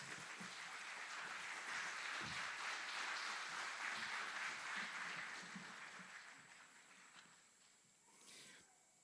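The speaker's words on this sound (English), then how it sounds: "Please join us in giving a round of applause to these outstanding drill sergeants, former drill sergeants, and instructors." Sustained applause from a crowd honoring drill sergeants and instructors at an Army aviation brigade graduation at Fort Eustis, a steady wash of clapping that swells, holds, then fades out toward the end.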